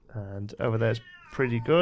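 A house cat meows several times in distress, close by and fairly loud, drawn-out tonal cries alternating with brief pauses; someone talks over part of it.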